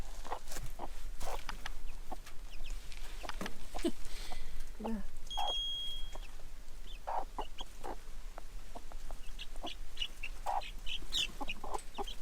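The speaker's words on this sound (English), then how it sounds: "2 baby chicks arrived and they're absolutely adorable" Baby chicks and chickens in a chicken coop, with repeated short clucks and peeps scattered over 12 seconds against steady background noise, some calls close and others farther off.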